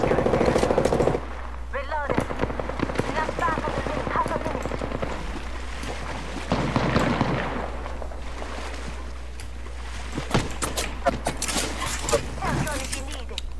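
Rapid automatic gunfire bursts in the video game Apex Legends, loud and repeated across a busy firefight mix with explosions, while a voice talks over parts of it.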